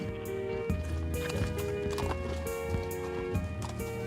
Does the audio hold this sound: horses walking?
yes